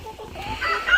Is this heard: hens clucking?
yes